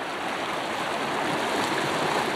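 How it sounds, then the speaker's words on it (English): A mountain river flows in a steady, full rush of water that fills the whole moment evenly, with no voices heard. "This is the river."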